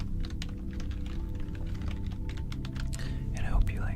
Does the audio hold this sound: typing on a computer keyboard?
yes